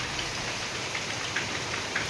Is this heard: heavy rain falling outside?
yes